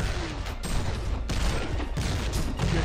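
Video game battle gunfire crackles in dense overlapping volleys, a loud and continuous barrage of rapid shots and booms with no talking.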